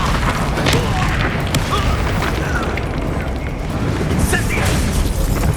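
A dense, continuous rumble of blasts and crackling magic from the Expulso spell in the Hogwarts Legacy video game, loud and sustained, with voices in the battle.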